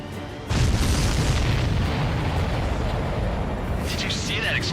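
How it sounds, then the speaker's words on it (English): Supply ship explodes in the video game Ace Combat 7, a sudden loud boom followed by a sustained roaring rumble, with radio chatter over it near the end. "Did you see that explosion?"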